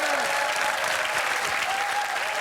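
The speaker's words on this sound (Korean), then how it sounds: "같이 한번 박수 보내주십시오." Studio audience applause on a Korean TV variety broadcast, a steady dense clapping wash that carries evenly from start to finish, with a faint voice underneath.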